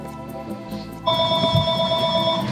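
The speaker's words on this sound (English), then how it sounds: "Gonna have to wait for my phone to stop." Mobile phone ringtone chiming loudly and steadily in a room during a QuakeCon 2020 broadcast, a repeating electronic tone that starts abruptly and keeps ringing.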